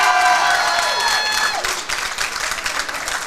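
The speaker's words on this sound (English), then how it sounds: "Both sides clapping. Great sportsmanship." Both teams at a boys' prep bowling division final clapping for each other, a short burst of crowd applause with cheering, fairly close and dense, softening slightly toward the end.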